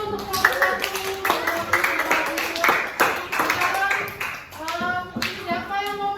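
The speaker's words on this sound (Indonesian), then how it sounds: "Beri tepuk tangan dulu untuk kelompok 1." A class claps for a group's calligraphy work, a dense, close burst of hand clapping from many people that continues steadily, with voices talking over it.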